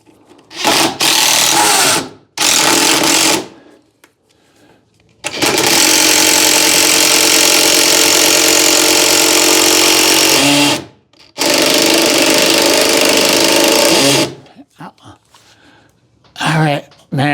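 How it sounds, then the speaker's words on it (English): A power driver torques screws into a wooden stair header in loud, close bursts: two short runs, then a long sustained whir of about five seconds and another of about three, with brief pauses between. "I'm going to go on top, put a couple more screws so this doesn't move, and I'll come back down here and I'll torque these"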